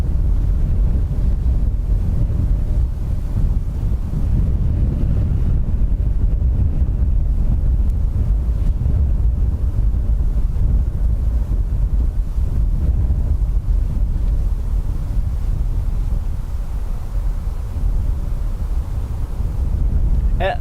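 Wind blowing at Dublin Airport, a loud, steady roar buffeting the microphone for about twenty seconds, continuous with no distinct events.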